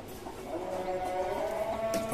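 A native hen clucks on a small poultry farm, a short run of soft clucking notes rising near the end, close by and alone with no talk.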